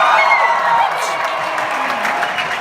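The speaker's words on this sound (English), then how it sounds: "we deserve a cheer every once in a while" Concert audience at a tour show in Boston, 2019, applauding and cheering loudly, a dense sustained roar of clapping with whoops and a voice rising above the crowd, steady throughout and close.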